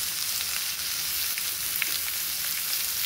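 Capsicum frying with carrots in a hot pan, a steady, loud, close sizzle with faint crackles.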